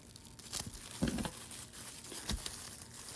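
Plastic wrapping around a mail-order Russian geranium plant crinkles and tears as it is unboxed, several short rustling bursts at close range, faint and without talk.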